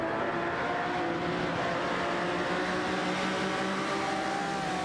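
Racing cars, including a Porsche 911 and a Lamborghini, roar steadily through a video game race, a continuous loud engine drone with layered whining tones and no speech.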